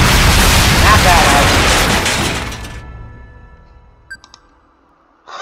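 Roblox enemy's rapid gunfire, a loud dense burst of crackling shots that fades out over a couple of seconds, followed by a few faint clicks.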